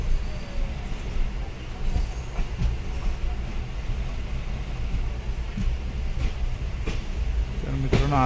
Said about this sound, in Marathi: आपली ट्रेन आता गोव्याच्या प्रसिद्ध अशा मडगाव स्टेशनला आलेली आहे